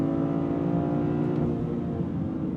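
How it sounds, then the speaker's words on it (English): A Toyota GR Corolla with an 8-speed automatic hums at sustained high revs under paddle-shifted manual control, a steady loud engine drone that eases slightly toward the end. "Now I can use the paddles on the wheel to control my gear changes."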